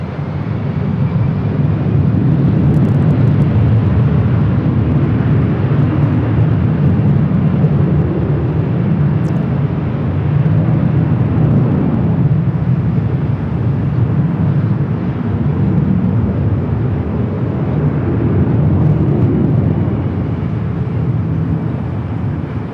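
An Airbus A321 jet at LAX airport gives a steady, loud roar that holds constant throughout with no pauses.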